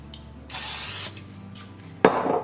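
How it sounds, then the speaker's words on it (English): Cooking spray hisses onto a muffin tin in two short bursts, a longer one and then a brief one, in a quiet kitchen, followed by a sharp clatter of the tin. "on a muffin tin here, I'm going to spray with my cooking spray"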